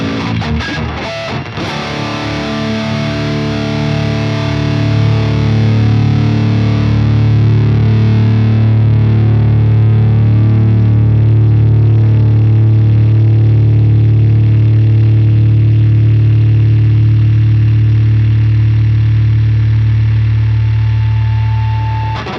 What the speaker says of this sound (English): So that's just getting run through so much gain that's distorting like crazy.